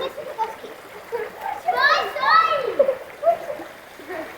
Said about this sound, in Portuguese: As crianças estão aí, nadando,